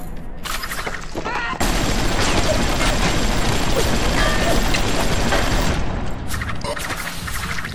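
Sustained heavy gunfire and booming impacts roar in the video game BioShock, a loud continuous barrage lasting several seconds after a few quieter shots, then tapering off with scattered bursts.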